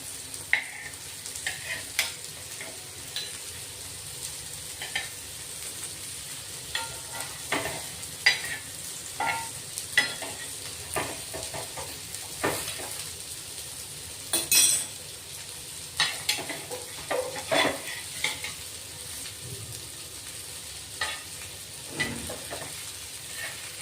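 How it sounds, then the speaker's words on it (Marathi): A breakfast dish being pan-roasted on its underside, a soft continuous sizzle nearby with scattered spatula scrapes and clinks against the pan at uneven intervals. "आता खालची बाजू शेकतोय आपण"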